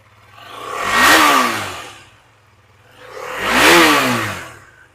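A 2022 motorcycle with a brand new engine revs up twice, each throttle blip swelling to a loud roar and falling away, close by with no talk.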